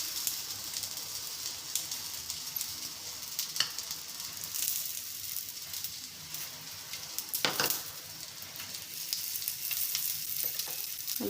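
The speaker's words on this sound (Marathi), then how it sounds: "आणि आता याला तेल लावून घेऊया थोडं आणि परतवून घेऊया।" A rolled snack shallow-frying in oil in a pan over low heat, giving a steady, soft sizzle with faint crackles and a few sharper pops, close by with no voices.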